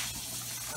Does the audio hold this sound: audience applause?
no